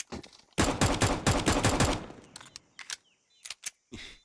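Unsilenced USP pistol fire in a Counter-Strike match on the Ancient map: a dense burst of sharp, loud shots over about a second and a half, then scattered, fainter single shots and clicks trailing off.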